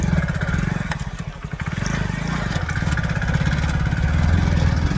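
A motorcycle engine runs steadily with a low, throbbing rumble, loud and close throughout, with faint voices in the background.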